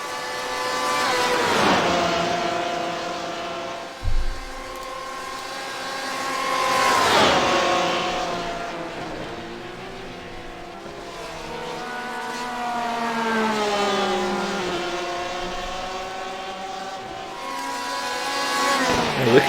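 Porsche race cars run laps on a circuit, their engines climbing and falling in pitch as they pass close by. There is one brief thump, and the engine noise is steady and fairly loud, with no voices.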